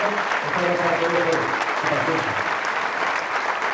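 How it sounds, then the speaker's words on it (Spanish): Audience applause fills the hall after a minister's speech at a conference on cognitive warfare, steady and dense for several seconds, with a voice talking over it. "Fuertes los aplausos para el ministro Freddy Yáñez"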